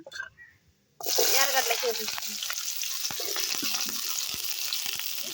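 Thinly sliced ingredients fry in a hot pan with crackling mustard seeds for a village-style rasam and egg omelette, a loud, continuous sizzle starting abruptly after a quiet moment, with scattered spoon clicks.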